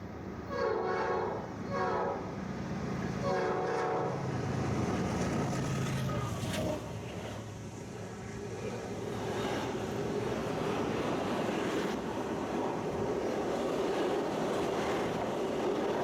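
A westbound Norfolk Southern double-stack freight train passes close beneath a low overpass, opening with several loud horn blasts before a sustained heavy rumble and rattle of wagons rolling by nearby.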